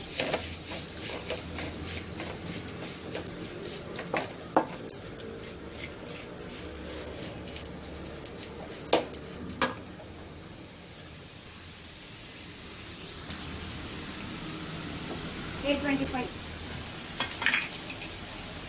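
Mango rice for an Andhra-style dish sizzles steadily in a pan, with a soft continuous frying hiss and occasional scraping stirs, fairly quiet and alone.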